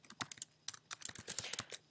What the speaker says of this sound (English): ready for us to start typing in what'll be our form